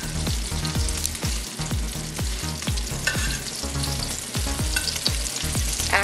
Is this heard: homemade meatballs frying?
yes